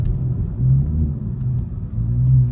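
A 2015 Ford Mustang with a 3.7L V6 rumbles close up, its deep engine and exhaust drone swelling in two throaty surges with a dip between them.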